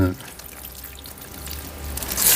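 Thick, starchy rice-cooking water is poured over vegetables for homemade fermented vegetables, a brief close splashing pour that trickles on with a faint background murmur.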